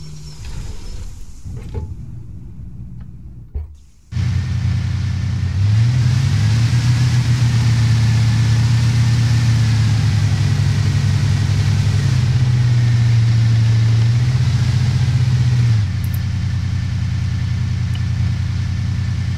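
A Bobcat CRV in Arma 3 drives with its plow lowered, its engine starting up after a brief rumble and then holding a steady, loud, droning hum with a tonal whine that stays level for over ten seconds.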